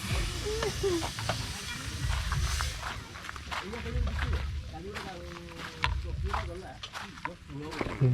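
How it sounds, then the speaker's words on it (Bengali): A pot of mutton curry sizzles at a car campsite by a dam in Odisha, a faint hiss running beneath people talking nearby, with scattered footsteps and bumps around it. "এই যে আমাদের সাথে মটন রান্না একই সাথে চলছে"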